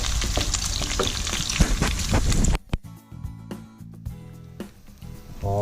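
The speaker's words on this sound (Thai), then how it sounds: "เบคอนก็เริ่มเสียน้ำตาลน้ำตาแล้วแต่เราจะทอดต่อไปอีกสักนิดหนึ่งครับ" Bacon browning in a frying pan crackles loudly and densely at first, then quiets to a softer, sparse sizzle while a voice speaks over it.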